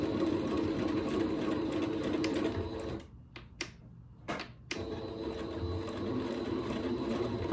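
A sewing machine stitches close to the edge of a man's shirt being upcycled, whirring steadily and fairly quietly. It breaks off for about a second and a half with a few soft clicks, then resumes its even hum.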